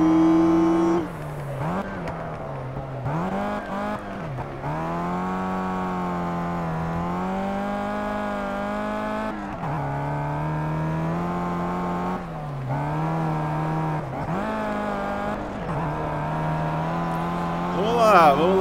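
A Renault Megane race car engine in the Project Cars racing game drones loudly and steadily, its pitch dipping and climbing repeatedly through gear changes and corners over about nineteen seconds.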